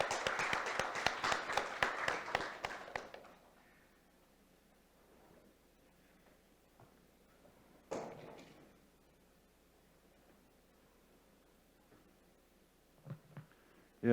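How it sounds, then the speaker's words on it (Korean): Audience applause welcomes a speaker at a forum on SDG data innovation, a dense burst of clapping that fades out within about three seconds, then a quiet room with an occasional thump. "김석호 교수님을 큰 박수로 맞아주시기 바랍니다."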